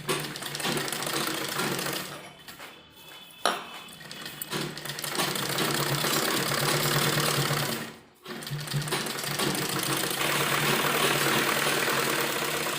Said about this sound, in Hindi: उसके बाद हम इसको इस साइड पलटेंगे और सिलाई लगाएंगे